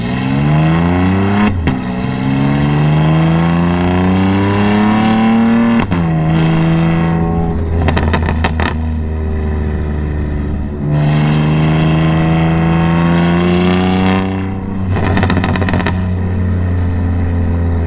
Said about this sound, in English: Let's let the car make some noise for you guys.